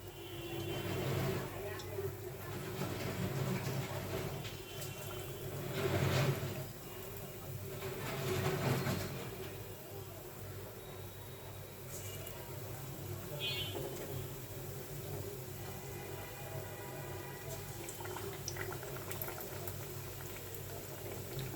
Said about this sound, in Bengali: কড়াইয়ের ভিতরে আমি তেল দিয়েছি, তেলটা গরম হয়ে গেছে, এখন আমি চপগুলো দিয়ে দিব একটা একটা করে।